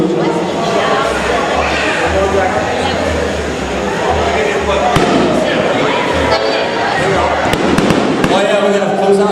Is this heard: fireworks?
yes